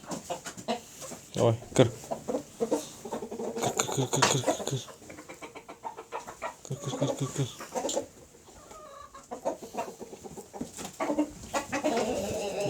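Red hens and a lively rooster cluck and squawk in bursts while being driven into their coop, with a person talking and calling to them between the birds' noises.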